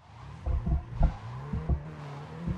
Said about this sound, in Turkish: Arabanın sesi çok güzel.